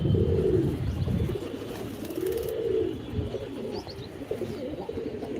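Pigeons coo repeatedly in low, rolling calls, close by, with faint chirps and a steady background hum.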